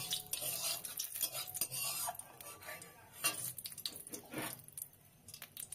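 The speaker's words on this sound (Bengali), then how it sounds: "এখানে সর্ষের তেল দিয়েছি, জিরে তেজপাতা ফোড়ন দিলাম" Cumin and bay leaves tempering in hot mustard oil in a pan, a soft crackling sizzle with clinks and scrapes of a utensil stirring, fairly quiet and close, no talk.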